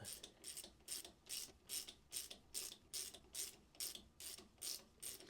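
A Scania marine impeller is drawn out with an ImpelPro large puller as its screw is wound in, giving a steady run of about a dozen crisp, rhythmic ratchet clicks, evenly spaced and fairly close, with no talking.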